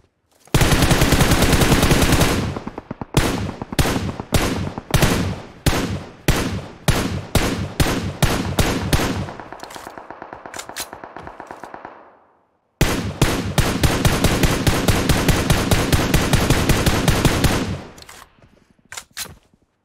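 Rapid automatic gunfire in the PUBG Mobile video game, loud close bursts of sharp evenly spaced shots, a pause with a hissing tail, then another long volley.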